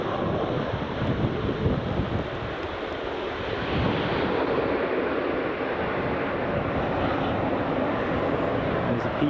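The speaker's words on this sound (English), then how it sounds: "There's a PC-12." A Pilatus PC-12 turboprop at Edinburgh Airport gives off a steady broadband engine roar heard from a distance, continuous throughout, with voices faintly present.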